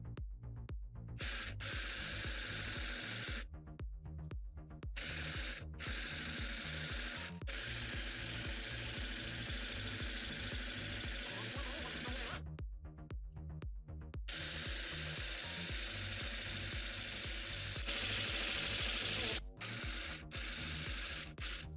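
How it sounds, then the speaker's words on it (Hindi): A portable mini mending sewing machine stitching in repeated bursts, its motor whirring with a rapid mechanical chatter, broken by short pauses between runs; no voices. "अब मैं आपको स्टिच करके बता देती हूँ"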